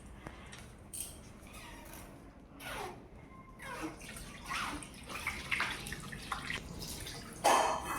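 Running water splashes intermittently as hands are washed, with faint patters and drips between louder gushes.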